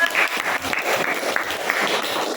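A class of students gives a short, lively round of applause for a student group in a school classroom. The clapping is dense and close, with no talking over it.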